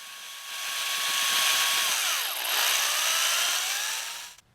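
A power drill drives a screw through a wooden stand top into the end of a leg, its motor whining up loud and steady for several seconds, dipping in pitch midway, then stopping abruptly.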